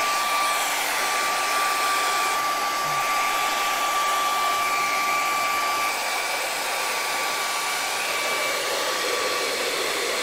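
A hair dryer blows steadily on raw meat skin to dry it, a loud, continuous close-up whir with a faint whine, running unbroken with no talking.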